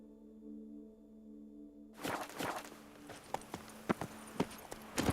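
Horse hooves in The Witcher 3: Wild Hunt, a run of clip-clop steps starting after two seconds of quiet hum, with several sharper, louder hoofbeats toward the end.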